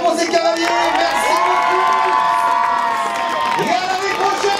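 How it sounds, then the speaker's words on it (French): Crowd cheering and whooping for horse riders on a lap of honour at a prize-giving event, loud sustained shouts and cheers with some applause, heard fairly close. "applaudissements pour ces cavaliers"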